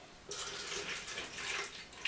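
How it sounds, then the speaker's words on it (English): Water pours steadily from a container into a bucket of Mapei Ultraplan M20 self-leveling floor compound, a continuous close splashing fill that starts abruptly and runs to the end. "pour water in until you've got"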